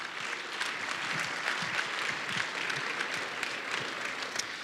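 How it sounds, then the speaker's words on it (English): A round of applause from the audience at a Toastmasters District 26 International Speech contest for the contest candidates, a steady wash of many hands clapping at moderate level, fairly distant, lasting the whole stretch. "Ladies and gentlemen, can we have a round of applause for these wonderful candidates"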